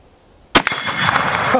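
One loud, sharp rifle shot cracks from near silence, followed by a brief metallic ring and echo rolling off across an outdoor range with steel targets.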